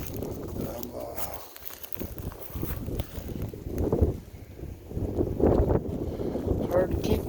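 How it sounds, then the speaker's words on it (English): A cold, windy day outdoors, with wind howling and buffeting a phone microphone in uneven low rumbling gusts that rise and fall throughout. "I got my sweatshirt on and the wind's howling. You can probably hear it in the phone."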